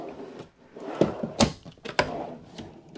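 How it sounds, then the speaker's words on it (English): Metal drawers on metal slides in the rear office of a Frontier GTX 37RT fifth-wheel being opened and shut, giving several sharp close clacks and sliding rattles over about three seconds, with no talk. "we have 5 drawers right here,"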